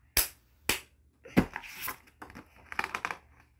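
Two crisp hand claps in quick succession, close and distinct, followed by a stretch of quieter rustling and murmured voice.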